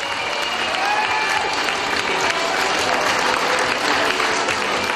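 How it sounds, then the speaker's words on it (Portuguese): Sustained, dense applause from a crowd of guests for children performing, an even and continuous clapping that runs the whole way through with faint voices mixed in. "Este é o primeiro aplauso que muitas crianças ouviram na sua vida"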